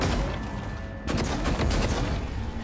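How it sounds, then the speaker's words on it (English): A glue cannon fires in the video game Prey, a sudden, loud burst of spraying, crackling blasts that kicks in around the one-second mark and keeps going as a dense, rapid stream. "Can I use the glue cannon to"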